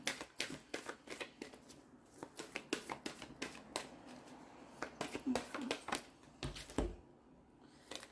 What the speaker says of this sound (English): Okay, I'll get a couple of cards for you.